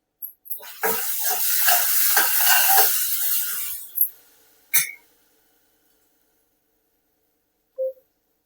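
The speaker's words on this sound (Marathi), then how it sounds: "थोडी आले लसूण पेस्ट टाकायची आपल्याला" Ginger garlic paste hits a hot pan for chana bhaji, bursting into a loud sizzle for about three seconds, then fading out, followed by a few sharp clanks of a utensil and a short squeak.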